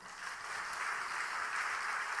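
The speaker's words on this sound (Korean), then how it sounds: "박수 한번 하세요." A church congregation applauds during a Sunday evening service, a steady wash of many hands clapping together that holds at an even level from start to end with no voices on top.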